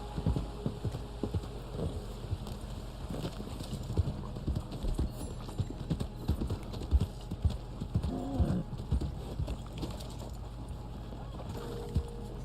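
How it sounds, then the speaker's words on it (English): Horse hooves clip-clop steadily in the Red Dead Online video game, a rhythmic run of close, moderately loud hoofbeats over soft background ambience, with faint talk now and then. "Let me feed my horse here."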